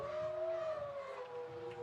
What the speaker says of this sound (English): Got the Wolves fans howling.